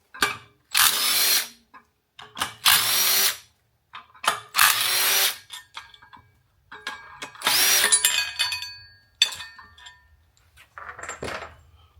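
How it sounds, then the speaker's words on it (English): A power tool takes out 10mm bolts on a CF Moto U10 Pro clutch, sounding in several loud close whirring bursts of about a second each, separated by short metallic clicks and clinks of parts being handled. "We're going to start by removing these 3 10mm bolts."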